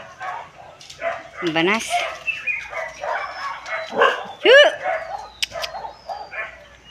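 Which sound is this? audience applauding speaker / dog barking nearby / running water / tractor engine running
dog barking nearby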